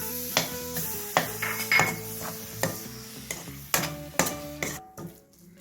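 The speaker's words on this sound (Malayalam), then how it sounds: "ഈ ടൊമാറ്റോയും കൂടിയിട്ട് ഇളക്കി കൊടുക്കാം" Chopped tomatoes stirred into chicken in a pan for an Idivettu chicken dish, with a spoon scraping and knocking against the pan in a steady series of close clattering strokes over a faint sizzle.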